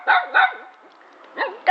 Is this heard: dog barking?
yes